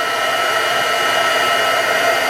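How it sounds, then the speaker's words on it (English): A heat embossing tool blows hot air in a steady, loud, broadband roar like a hair dryer, continuous and close throughout with no talking. "Now let's bring the heat tool over here."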